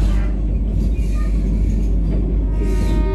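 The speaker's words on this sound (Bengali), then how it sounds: "আমাদের ট্রেন এই উড়িষ্যার রাজধানী ভুবনেশ্বর ছেড়ে এখন পুরীর দিকে ক্রমশ এগিয়ে যাচ্ছে" A Vande Bharat Express travels from Bhubaneswar toward Puri in Odisha, giving a steady, heavy low rumble with a constant rolling drone that never lets up through the whole stretch.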